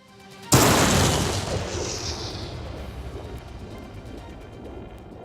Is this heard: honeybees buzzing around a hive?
no